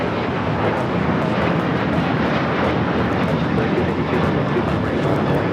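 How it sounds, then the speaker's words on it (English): A United Airlines Boeing 737-800 bound for Puerto Vallarta thunders down the runway at Los Angeles International Airport, its close jet engine roar loud and continuous. "319 taking off to Puerto Vallarta on the 737-800."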